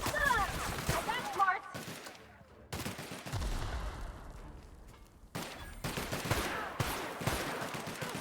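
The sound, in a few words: gunfire in video game The Outer Worlds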